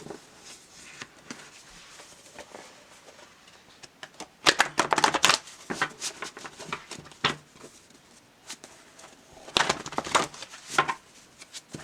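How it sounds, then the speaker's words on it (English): Cards being shuffled in several quick riffling bursts, crisp and close, with short pauses between rounds and no talking. "I did clear and shuffle these already, but I'll get them a little bit more."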